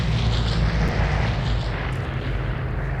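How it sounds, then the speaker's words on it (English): Airdrop plane in a video game droning overhead, a loud, steady, rumbling engine roar that fills the whole stretch without a break. "the plane, it sounds like it's about to come directly overhead"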